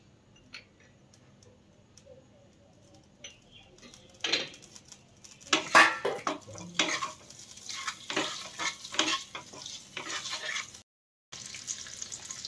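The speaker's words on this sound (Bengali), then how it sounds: "এবার সেদ্ধ ডিমগুলো দিয়ে দেওয়া হচ্ছে, একটুখানি ভেজে নিতে হবে সামান্য নুন হলুদ দিয়ে।" Boiled eggs frying in a pan of oil with a little salt and turmeric, a quiet sizzle with scattered crackles and spatula scrapes that build after a few seconds; no talking.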